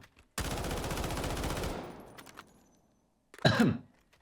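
A long, fast automatic burst from a customized rifle in Delta Force, loud and close, tailing off into echo, followed by a short separate burst.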